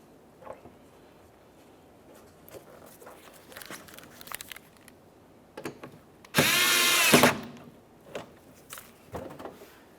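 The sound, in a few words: power drill driving headlight mounting screws, Toyota Sienna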